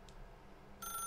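Electronic telephone ring in The Stanley Parable bursts in near the end as a bright tonal chirp over a quiet room hum, following a long stretch of near silence.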